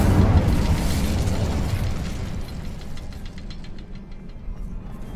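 An Incendio fire spell bursts in Hogwarts Legacy with a loud, rumbling whoosh-boom that swells at once and then slowly fades into a low roar.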